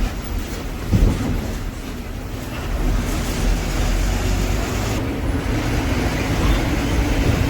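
A TNSTC bus rolls along a road, a steady loud low engine and road rumble with rattling that builds after the first seconds and holds throughout, no voices.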